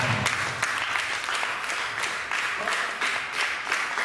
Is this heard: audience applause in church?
yes